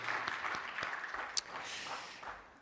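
Faint, scattered clapping from a church congregation during a Sunday service, thin and sparse with a few sharper claps standing out.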